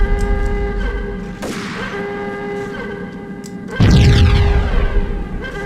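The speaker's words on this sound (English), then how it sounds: "I love how this game just puts like a million explosions into one sound" Many explosions layered into one dense, roaring blast in the Max Payne video game, a sharp loud burst around midway, a second heavier booming wave that rumbles on to the end, over a steady tonal game hum.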